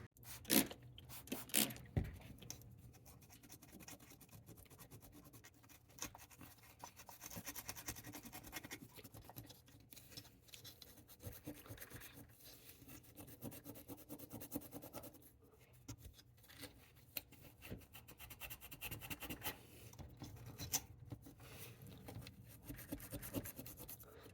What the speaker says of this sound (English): let me get some alcohol and the Scotch-Brite, and we'll clean this thing up real quick